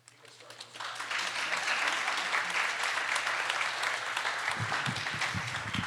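A large audience at a Duluth talk on managing political emotions bursts into loud, sustained applause, rising within the first second and holding steady to the end, with voices chattering underneath near the close.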